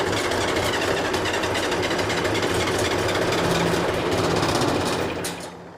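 A John Deere 401C tractor's diesel engine runs steadily, loud and close, with a dense rattling clatter that holds constant for about five seconds before dropping off abruptly near the end.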